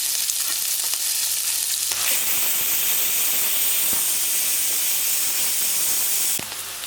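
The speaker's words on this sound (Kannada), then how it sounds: "ಎಣ್ಣೆ ಕಾದಿದೆ ಇವಾಗ ಈರುಳ್ಳಿ ಆ್ಯಡ್ ಮಾಡ್ಕೊಳ್ತಾ ಇದ್ದೀನಿ" Onions go into about two spoons of hot oil in a ladle for a kuska and chicken garlic roast. A soft sizzle swells into a loud, close, continuous hissing fry that runs almost seven seconds with no talking.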